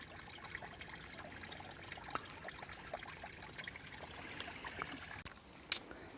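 Spring water seeping from a small rock cave trickles steadily and quietly into a water bag as it fills, with a soft continuous gurgle and a couple of small clicks near the end.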